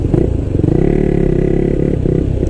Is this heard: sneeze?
no